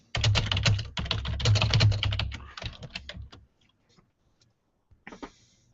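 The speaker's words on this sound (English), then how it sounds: "I'm going to type it in there." Rapid, close typing on a computer keyboard runs for about three seconds, then a few scattered keystrokes follow with quiet gaps between them.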